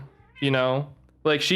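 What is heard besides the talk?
cat meowing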